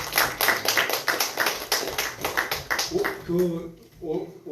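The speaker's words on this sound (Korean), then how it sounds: "우리 박수로 서로 축복하겠습니다." A church congregation claps together during a Sunday worship service, producing a steady rhythmic run of claps that then gives way to someone speaking.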